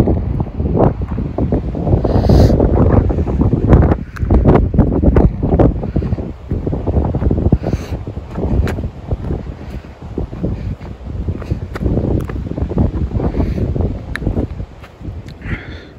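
Strong wind blusters across the microphone on the La Manche Trail, a loud, continuous rumble with gusty surges and no speech.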